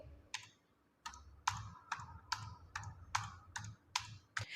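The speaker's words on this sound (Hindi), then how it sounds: "यहाँ पे मैं सब्जेक्ट के नेम टाइप करूंगी" Keys click on a computer keyboard while marks and subject names are typed into an MS Word marksheet, about ten distinct, evenly spaced keystrokes, close and fairly quiet, with no talk.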